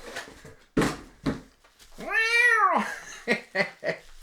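A cat lets out one long, loud, drawn-out meow in the middle, with scattered short bumps and voice-like sounds before and after.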